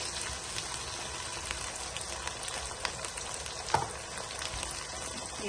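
Tomatoes go into a pan of onions and spices frying for an Indian dal curry, giving a steady, close sizzle and crackle with a few soft stirring scrapes and no talk.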